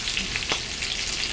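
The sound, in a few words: pancakes frying in a pan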